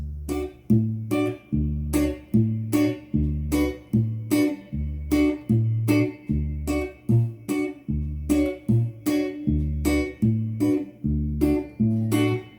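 Steady guitar strumming for a chord-change exercise: evenly spaced strokes and bass notes repeat in a regular pattern, clear and close, with no talking.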